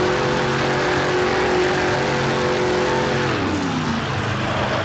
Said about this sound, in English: It is our comic book themed Killer Moth truck, Dexter Holt.